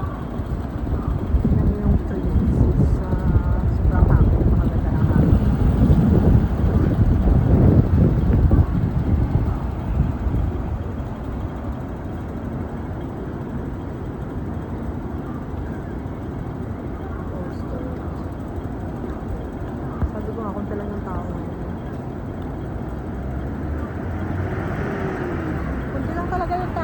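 Strong wind buffets the microphone near a station with trees, gusting heaviest early on and then easing to a steadier rush, while passing traffic rumbles and people talk throughout.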